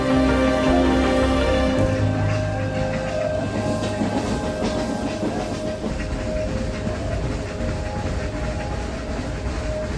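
A Nilgiri Mountain Railway heritage train pulls away from Kallar station on its mountain run to Ooty, with a steady loud rumble, rhythmic clatter of wheels on rail joints and a hiss of steam, and no talk.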